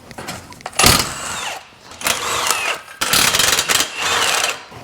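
Bursts of a pneumatic impact wrench hammering loose rusty 13mm exhaust downpipe bolts on a BMW N54, three main rattling runs separated by short pauses, loud and close.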